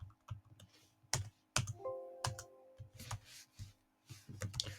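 Calculator keys tapped in quick succession as numbers are entered, a string of sharp close clicks with brief pauses, alone without speech.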